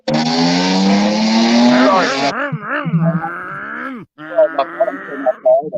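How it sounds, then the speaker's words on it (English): A neighbor's loud car revs outside, its engine note rising strongly and then wavering through several uneven bursts, close and prominent, with a brief drop to near silence before it resumes. "My neighbor has a loud car."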